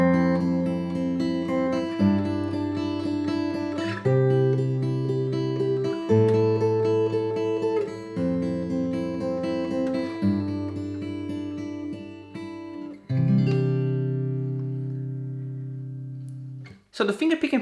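Guitar playing a B section chord progression using one repeated chord shape, heard as steady strummed chords changing every two seconds, ending with a ringing final chord.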